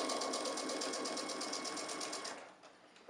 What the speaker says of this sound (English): I'll just top stitch all the way around.